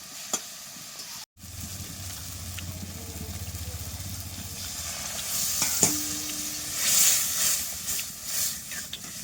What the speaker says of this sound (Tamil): தக்காளி போட்டு நல்லா வதக்கியாச்சு.